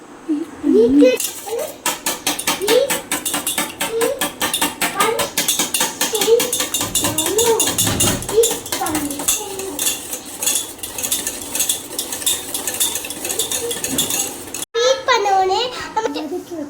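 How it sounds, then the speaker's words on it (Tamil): Three eggs are beaten in a bowl, a fast, steady clatter of a utensil against the bowl continuing close up for the whole stretch, while a voice chatters over it. "மூணு முட்டையை உடைச்சு ஊற்றிட்டு இதை பீட் அடிச்சு நல்லா பீட் பண்ணிக்கணும்."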